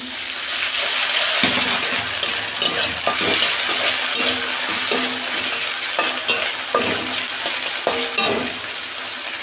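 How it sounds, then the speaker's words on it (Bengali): Ginger garlic paste frying in a hot pan over browned onion, stirred repeatedly with scraping strokes against a steady loud sizzle throughout. "আদা রসুনের পেস্ট দিচ্ছি 1 চামচ"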